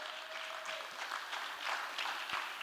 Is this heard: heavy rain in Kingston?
no